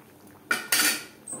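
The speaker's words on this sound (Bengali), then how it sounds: "গ্রেভির সাথে মাছের মাথা বেশ ভালো করে মিক্সড করে দেব।" A spoon scrapes and clinks against a pot as katla fish head is mixed into potato curry gravy: two quick, close metallic strokes, then quiet.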